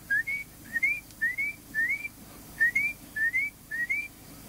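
A person whistles in imitation of a bird call, repeating a short rising two-part phrase seven times in a steady rhythm, clear and close against a quiet background.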